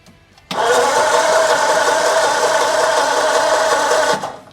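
A 1947 car engine runs steadily at a constant, fairly loud drone for about four seconds while the throttle is worked by hand. It stops abruptly at the end.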